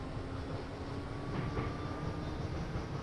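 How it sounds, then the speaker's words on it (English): Train in a train-driving game under full power climbing a hill, a steady low rumbling drone with a faint tonal hum, constant and unbroken. "I can see the train accelerates very slowly uphill."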